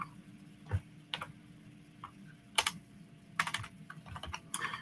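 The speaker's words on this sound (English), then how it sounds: "I'll just be faster to type it in." Numbers are typed on a computer keyboard in quick, irregular clusters of crisp key clicks, close but quiet, with a faint steady hum behind.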